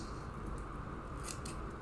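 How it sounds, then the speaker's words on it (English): Blue scissors cutting through paper during a folded paper model demonstration, a brief steady snipping and rustling close to the microphone with no talking. "blue scissors"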